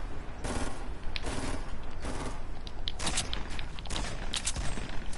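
Dense, rapid video game gunfire rattles in overlapping bursts for several seconds, loud and continuous, with clattering in the background.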